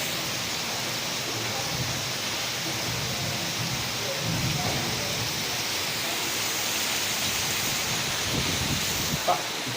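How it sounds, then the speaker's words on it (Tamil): Steady, dense heavy rain in Velachery, Chennai, hissing continuously, with a faint low rumble underneath and a brief knock near the end. "இப்படி மழை பெய்யும் எதிர்பார்க்கவே இல்லை"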